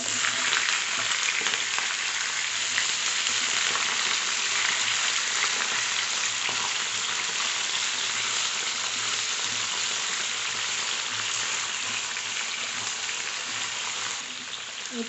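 Round potato slices fry with mustard seeds in hot oil for a potato fry, giving a steady, close, even sizzle that hisses on without pause, with no talking over it.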